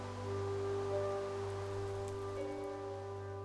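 Rain falls in the video game Minecraft as a steady, even patter, with a sustained tonal hum running underneath it the whole time.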